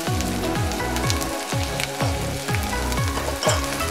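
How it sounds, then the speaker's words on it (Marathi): Chopped onion frying in oil in a pan over high heat for an Indian sorrel dal, a constant crackling sizzle with repeated scraping stirs of a spoon against the pan. "कांदा लाल होईपर्यंत भाजायचा"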